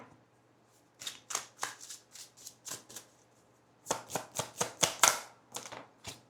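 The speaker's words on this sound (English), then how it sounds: "Hold on one second, I'm trying to shuffle this." Cards are shuffled in quick riffling bursts, a pause, then another longer run of crisp, close shuffles.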